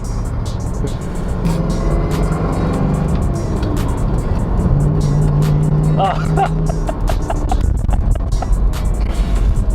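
A 1971 Ford Mustang Mach 1 with a 429 Ram Air V8 and 780 CFM carburetor pulls hard from inside the cabin, a loud continuous engine roar rising and falling in pitch beneath a voice.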